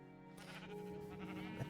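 A sheep in a video game bleats once in a drawn-out, wavering cry, faint and alone with no talking.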